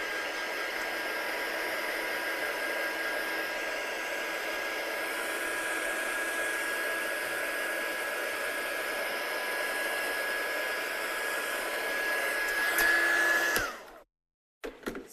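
A hair dryer blows steadily at close range over watercolour-stamped handmade cards, a constant whirring hiss with a faint high whine that runs for about thirteen seconds before cutting off abruptly.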